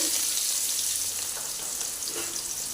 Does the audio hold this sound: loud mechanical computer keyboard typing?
no